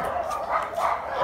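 Dogs rescued from slaughterhouses bark and yip in a short, busy burst at an animal shelter in China, with a voice mixed in nearby.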